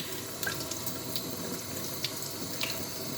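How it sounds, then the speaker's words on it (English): Water runs steadily from a kitchen tap while hands are washed beneath it, a soft continuous splashing with faint drips and no talk. "don't forget to wash your hands. Yes, your hands."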